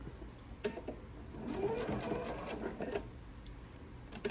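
A sewing machine stitches a Noel tree skirt in a short, steady run, its soft mechanical whir and needle clatter close but fairly quiet, with faint clicks at the start and end.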